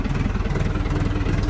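A tractor engine idles on a farm, a steady, close, low rumble with a fast even pulse throughout and no voices.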